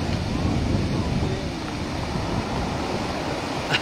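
Calm sea waves along the Casablanca coast make a steady, broad wash of surf with some wind noise on the microphone, fairly loud and continuous throughout.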